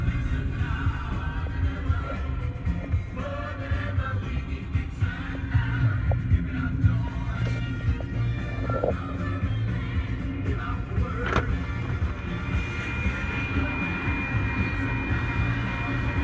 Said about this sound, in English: Oh my gosh, it's a choo-choo train.